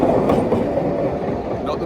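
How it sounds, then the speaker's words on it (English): Train running on rails in Slovenia, a steady loud rumble with rhythmic clickety-clack of wheels on the track, heard from on board or close by with no voices. "we're ready to catch the train to Slovenia, Raf's 30th country"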